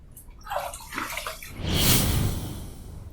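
Water splashes and sloshes as a face is rinsed after a wet shave, near and fairly loud, with a few quick splashes followed by a longer, fuller gush of running water.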